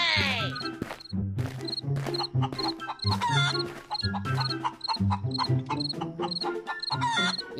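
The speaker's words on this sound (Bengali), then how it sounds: "আমার মুরগির ঘরে এমন শব্দ হচ্ছে কেন? মুরগিগুলো কেমন চেঁচামেচি করছে।" Cartoon chickens squawk and cluck in a coop, a busy, loud run of repeated bursts with crash-like hits and scattered voices mixed throughout.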